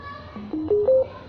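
A rising four-note electronic chime sounds as an active speaker fitted with Bluetooth powers on. The stepped tones climb in pitch over under a second, moderately loud above a low background hum.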